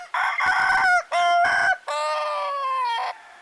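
Two young Ayam Ketawa laughing roosters, one slow and one fast laugher, crowing loudly and close in three strong phrases, the last a long sustained trilling note, with no talk over it.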